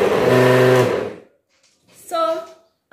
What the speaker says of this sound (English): after chopping your cucumber, you put it in a blender